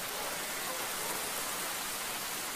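Steady rain falls in an even, continuous hiss that stays at the same level throughout, with no voices.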